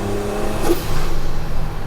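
A 600-horsepower Toyota Hilux pickup with a swapped 1JZ engine and big turbo revs loudly and close, its steady mid-pitched engine drone rising and holding for a couple of seconds with no talking.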